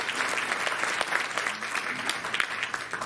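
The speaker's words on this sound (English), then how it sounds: "Please, a round of applause." Audience applause at an Indian Consulate and TV Asia event in New York marking the International Day of Yoga, a steady, dense wash of clapping that carries evenly through the clip with no talk over it.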